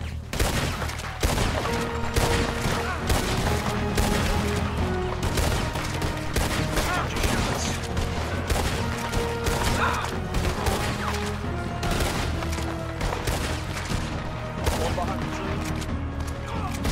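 Dense gunfire in a firefight, with rapid overlapping shots and bursts cracking continuously over a heavy low rumble, loud and close, with voices in the mix.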